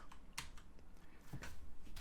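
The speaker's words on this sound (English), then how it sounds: "I'm just going to type in" Keys tapped quietly on a computer keyboard, an irregular run of soft clicks close by, with no talking.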